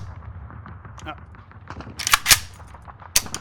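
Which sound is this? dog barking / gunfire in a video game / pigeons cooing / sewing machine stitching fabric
gunfire in a video game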